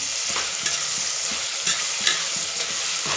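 Sona rice being stirred and fried in a pan for veg pulao, a steady close sizzle broken by a few louder scraping stirs, with no voices.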